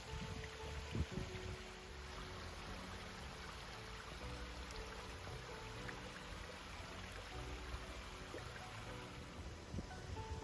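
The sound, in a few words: flowing water from Lake Biwa in a garden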